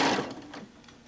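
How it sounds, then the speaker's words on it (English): Domestic sewing machine stitching a quarter-inch seam on quilt fabric, a brief close whirring run that starts strongest and fades slightly over about a second, with no talking. "we're going to do a 1/4 inch seam. We're going to line this up, and we're going to sew down"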